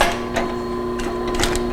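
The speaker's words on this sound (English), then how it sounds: "here we sew slow, one stitch at a time" An old-school lightweight clutch leather sewing machine stitches leather slowly, one stitch at a time, giving a few separate mechanical clunks and ticks spaced apart over a faint steady motor hum.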